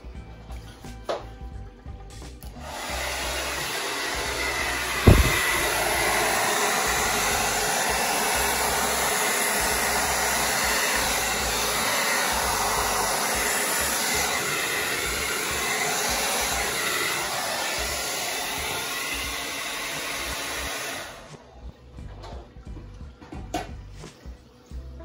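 Hair dryer blowing air onto black resin cell activator on a hexagon canvas, a steady loud whooshing hum running for about eighteen seconds with a small knock near the start, then switching off to quiet.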